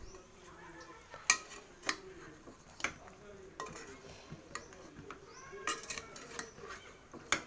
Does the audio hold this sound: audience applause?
no